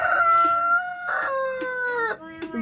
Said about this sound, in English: He's my Rhode Island Red Rooster.